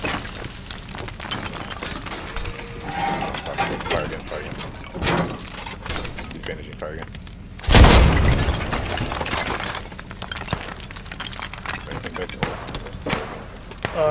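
A tank's main gun fires once in a video game, a single loud, deep boom with a broad burst that decays over a second or two, set amid steady game noise and someone talking.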